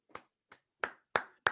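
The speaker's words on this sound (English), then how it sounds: "And so I applaud you" On a sports talk radio show, someone claps five times in an uneven rhythm, starting soft and ending with louder, crisp, close claps.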